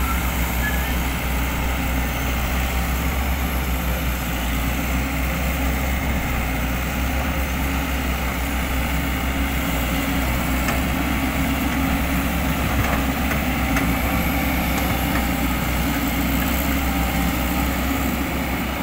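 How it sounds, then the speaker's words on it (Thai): An engine runs steadily while coconut logs are lowered, giving a loud, unbroken drone with a deep low hum, and faint voices sit beneath it. "เครื่องยนต์ปกตินะครับผม"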